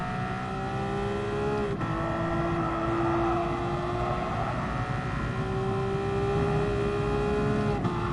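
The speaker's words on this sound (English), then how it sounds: "So with that weird engine noise, we get that real stutter." A Porsche race car engine in Gran Turismo Sport during an endurance race, a constant loud droning whine with a couple of brief hiccups where the pitch dips and stutters.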